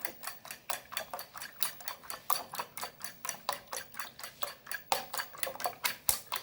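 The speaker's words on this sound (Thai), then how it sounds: "เราจะตีไข่ให้เข้ากันก่อนครับ" Eggs beaten in a bowl with a utensil, a fast steady rhythm of close, sharp clicking taps against the bowl's side, continuing without pause throughout.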